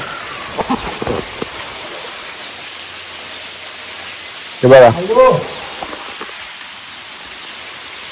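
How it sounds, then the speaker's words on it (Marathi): Steady hiss of monsoon rain falling on paddy fields in Konkan across the whole stretch, with a brief spoken exclamation and a few knocks partway through. "पावसाने केली सुरुवात मित्रांनो"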